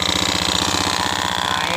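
A Honda Beat FI scooter engine running at idle with a rough, knocking sound from a faulty seal, a steady close pulsing drone that holds even throughout.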